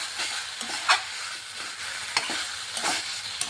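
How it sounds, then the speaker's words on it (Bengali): Telakucha greens with fried lentil dumplings are stirred in a pan, with a soft constant sizzle broken by several sharp scraping strokes of the spatula at close range. "একটু ভাজা ভাজা করে নিলাম"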